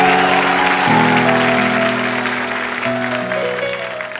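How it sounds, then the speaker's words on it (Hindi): A studio audience on a comedy talk show applauds the guests, clapping under a sustained musical chord that gradually softens. "तो एक बार जोरदार तालियां हो जाएं"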